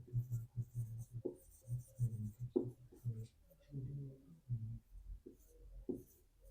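Chalk or marker writing on a board in a physics lesson, a quick run of short scratchy strokes in rhythmic bursts, fairly quiet and close.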